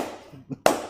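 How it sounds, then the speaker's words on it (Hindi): A single sharp hand clap, loud and close, follows a brief softer sound, with no voices around it. "लेकिन तेरी ताली में जोर तो है भाई"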